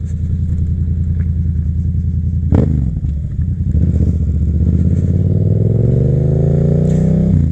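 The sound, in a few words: 2021 Yamaha MT-07 motorcycle engine, rider easing the throttle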